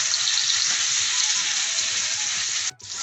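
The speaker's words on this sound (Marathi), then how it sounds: "आता मासे आपण पॅन मध्ये सर्व 3 मासे मी सोडून घेतले तळण्यासाठी।" Pomfret and rawas fish frying in hot oil in a pan, a loud, steady close-up sizzle that holds evenly and then drops away abruptly near the end.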